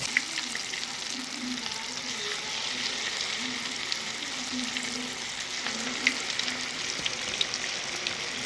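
Black-eyed pea vadas fry in hot oil over a low flame, giving a steady, even sizzle with soft bubbling and faint crackles that hold without pause from start to finish.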